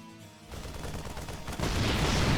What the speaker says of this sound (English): he does take the tank shots to the face